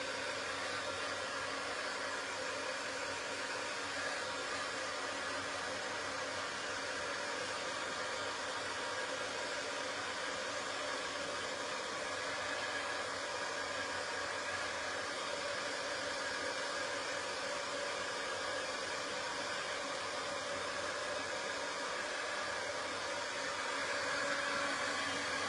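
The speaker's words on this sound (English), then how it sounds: "I'm going to get my dryer. Tell me if you can hear my dryer." A hair dryer running continuously in the background, a steady muffled whoosh that stays level throughout without pauses.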